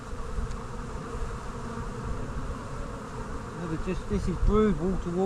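Honey bees drone steadily around an open hive full of brood, a close continuous buzz, with someone speaking over it near the end.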